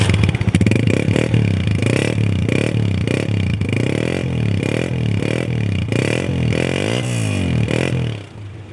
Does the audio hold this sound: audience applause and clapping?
no